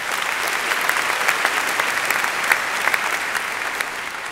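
Sustained loud audience applause at a Long Beach mayor's State of the City address, a dense, even wash of many hands clapping throughout with no talk over it.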